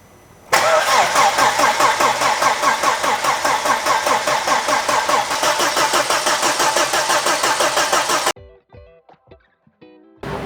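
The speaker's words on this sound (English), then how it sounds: "it is now time to try and start this engine for the very first time after the rebuild" A freshly rebuilt car engine cranks and catches, running loud and steady with a rapid rhythmic pulse for several seconds, then shuts off, leaving faint clicks and ticks.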